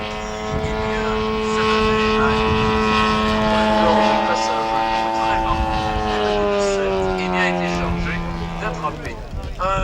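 A model aircraft with a 3W 120cc flat-twin engine flies at a scale model display. The strong harmonic drone swells and then slowly drops in pitch as the plane passes, heard beneath some talk.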